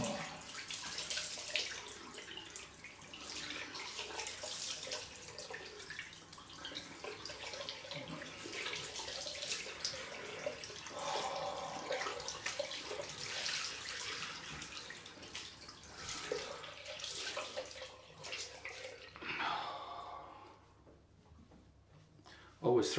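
Cold tap water runs steadily into a sink for a rinse after a wet shave, a continuous splashing rush lasting most of the time before stopping near the end.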